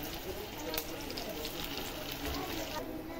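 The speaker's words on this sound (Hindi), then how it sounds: "चूल्हे पे मैंने पैन चढ़ा दिया है, उसके अंदर ऑयल डाल के अब हम इसको अपने शैलो फ्राई कर लेंगे" Beef shami kababs shallow frying in oil in a pan make a steady, soft sizzle and crackle throughout, close but faint.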